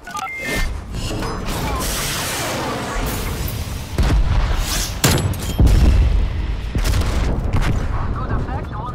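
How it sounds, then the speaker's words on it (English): A cruise missile strike in Call of Duty: Black Ops Cold War, heavy booming impacts and rumbling explosions mixed with game gunfire and mechanical effects, loud and dense throughout. "Cruise missile ready for launch."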